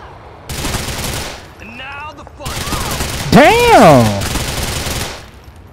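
Gunfire from the GTA 4 video game during a drug deal gone bad, heard as bursts of shots mixed with busy game noise, with someone shouting and talking over it.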